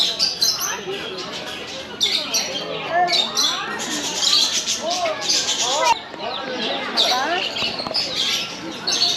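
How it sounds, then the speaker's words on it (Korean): Birds arriving at a hands-on farm visit, with scattered chirps and squawks and the flutter of wings among several excited voices talking throughout. "오 새들 온다"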